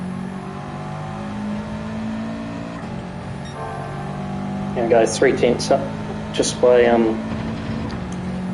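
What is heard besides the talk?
race car engine revving in Gran Turismo 7 video game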